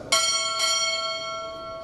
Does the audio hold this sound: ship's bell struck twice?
yes